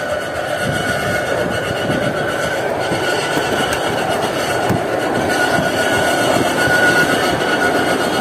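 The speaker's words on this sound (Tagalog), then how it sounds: "Ano yan, tren?" A train rumbles past steadily at close range, a continuous roar of wheels on rails with faint metallic squeals.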